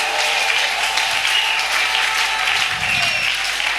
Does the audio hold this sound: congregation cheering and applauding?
yes